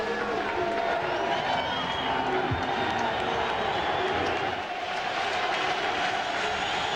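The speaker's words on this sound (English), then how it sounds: "This Rainbow crowd urging on the defense on 2nd and 10 after the incompleted pass." A Hawaii Rainbow home crowd at the 1999 Oahu Bowl against Oregon State roars continuously for the defense, a dense, loud stadium wash with voices talking over it.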